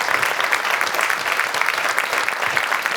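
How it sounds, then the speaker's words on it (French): A French television studio audience claps in a dense, steady round of applause that fills the whole stretch at an even level, with no talking over it. "on peut applaudir Cécile Duflot"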